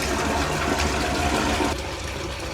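Water drains back through pipes into an enclosed compartment under a deck at a house in France, producing a steady, loud rushing gush that drops slightly in level toward the end.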